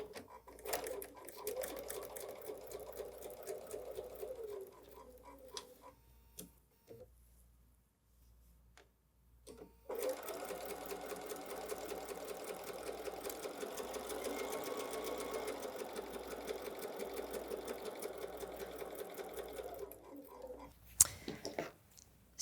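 Sewing machine stitching with red thread during foundation paper piecing: a steady, fairly quiet mechanical whir in two long runs separated by a pause, with soft clicks and handling noises at the end.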